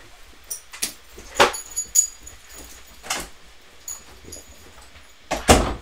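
A dog moving about an office as a door opens to let it out of the room, with scattered clicks, a few sharp knocks and jingling tag rattles against near silence.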